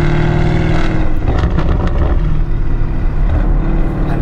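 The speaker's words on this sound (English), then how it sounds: "Now this car has got a custom race exhaust system with a downpipe." Widebody Lamborghini Urus with a custom race exhaust and downpipe in sport mode, a loud, deep, rumbling engine and exhaust drone held steadily throughout, close to the microphone with some wind buffeting.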